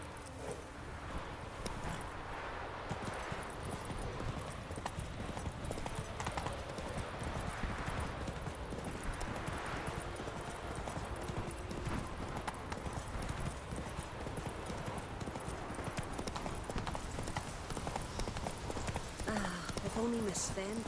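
Roach the horse's hooves clip-clop steadily in The Witcher 3, a continuous rhythmic gallop over a dense game soundscape, with a voice and other character speech talking over it.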